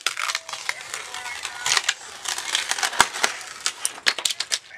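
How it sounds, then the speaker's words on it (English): Old covering peeled and torn off a wooden chest, a close series of irregular crackling rips and crunching tears in quick bursts, fairly quiet, with no talk. "So I'm gonna start by peeling off as much as I can"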